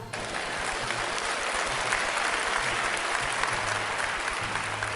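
A church or conference crowd applauds Dr. Myles Munroe's remark, a full, sustained burst of clapping that starts abruptly and stays steady and dense, with no voices over it.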